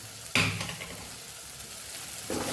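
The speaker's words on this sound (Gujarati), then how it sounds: "હવે આપણે મિક્સ કરી લઈશું।" Chilli and flour sambharo with lemon is stirred in a hot pan, with a soft continuous sizzle broken by two sharper scraping bursts from the spoon, close by and without speech.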